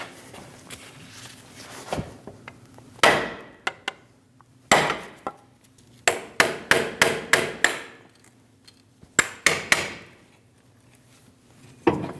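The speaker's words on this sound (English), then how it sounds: "Using a pry bar and a hammer, we're going to shock the axle." Sharp metallic blows ring out as a hammer strikes a pry bar against a front CV axle on a 2001-2006 Chevrolet Silverado 2500 HD, in irregular bursts of several rapid strikes with short pauses, close and loud.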